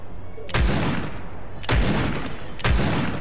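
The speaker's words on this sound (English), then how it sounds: "I'm gonna fight you like a man! With my only shotgun!" Three heavy shotgun blasts in Fortnite, loud and close, spaced about a second apart, each with a sharp crack and a booming tail.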